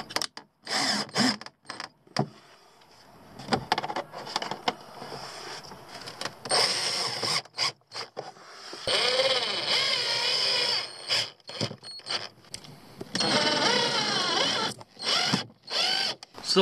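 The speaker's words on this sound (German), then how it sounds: "nehmen wir den Akkuschrauber mit" A cordless drill drives small screws while a solar charge controller is mounted inside a motorhome, giving several short buzzing motor bursts separated by pauses and handling clicks, with no talk.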